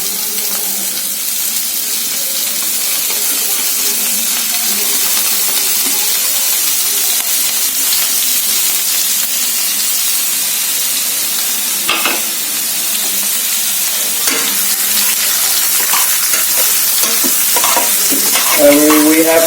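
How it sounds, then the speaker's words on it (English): Onions frying in a pan over a medium flame while being cooked for Amritsari chole, giving a steady, close sizzle with occasional stirring scrapes and no talking. "We have to cook the onions very well on a medium flame, and it is very important."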